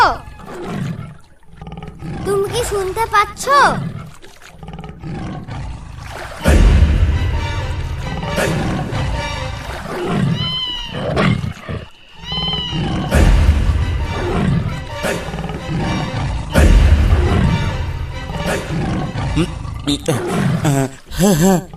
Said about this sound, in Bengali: ওই দেখো, বাঘে ডাকছে